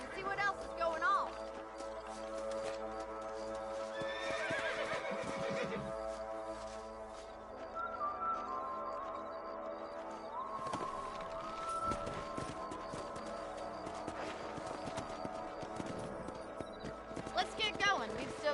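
Horses in the Red Dead Redemption video game whinny and snort while hooves clip-clop along, with a music score running underneath and character voices talking over parts of it.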